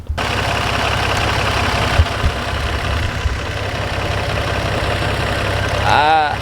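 A 350 engine runs steadily after starting, a close, loud idle with an even low rumble and a few faint knocks and clicks, and a voice briefly at the end.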